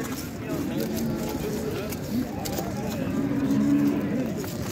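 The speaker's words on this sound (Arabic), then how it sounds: "خيرة تاع البقرة الوالدة هنا في جمعة كيس" A cow at the Jemaa Kiss livestock market in Morocco moos in low, drawn-out calls amid busy market ambience, with people talking over it throughout.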